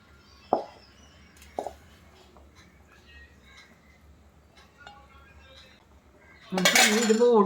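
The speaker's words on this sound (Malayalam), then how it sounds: "മീൻ പെറുക്കിയിട്ട് കൊടുക്കാം കേട്ടോ." Mackerel pieces are added to a simmering red chilli fish curry in a pot: a few sharp utensil clinks against the pot, soft handling noises, then loud, dense bubbling and sizzling near the end.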